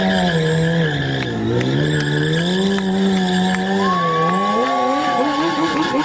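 A BMW S1000 motorcycle spinning in a tight stunt circle at a show: a loud, sustained engine whine with wavering pitch, rising and falling as the bike circles, mixed with tire squeal.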